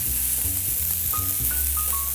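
Eggs and bananas fry on a breakfast griddle with a steady, close sizzle that runs unbroken, while a few low tonal hums and brief beeps sit underneath.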